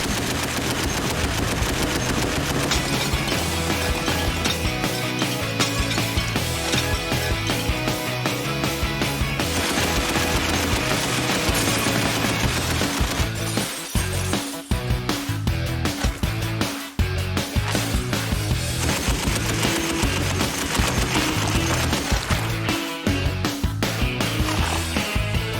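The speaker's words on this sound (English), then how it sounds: "This is one of my personal favourites, the world-famous Browning 50 cal." A Browning .50 caliber machine gun fires in long, loud bursts of rapid heavy shots, the pounding rhythm going on almost without a break, with short pauses and spaced single reports near the middle.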